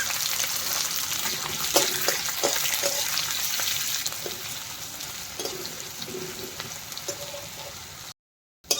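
Chopped onions fry in oil with whole garam masala of black peppercorns, cinnamon, cardamom and bay leaf, giving a close, steady sizzle with scattered stirring clicks, then a brief cut to silence near the end.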